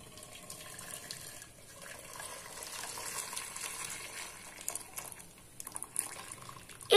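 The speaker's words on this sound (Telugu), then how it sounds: "ఇప్పుడు బెల్లం పాకం కోసం ఒక కడాయి పెట్టుకొని అందులో బెల్లం వాటర్ ని వడపోయాలి" Jaggery water poured through a strainer into a kadai, a soft running trickle that swells in the middle, followed by a few clinks and knocks near the end, with no one talking.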